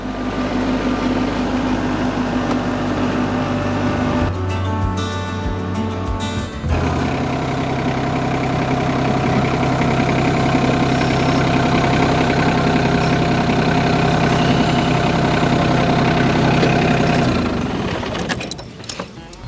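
Tractor engine idling steadily before tilling with a low-hour tiller, a continuous low rumble with metallic rattling, briefly changing pitch as if throttled, then running on evenly before cutting off near the end.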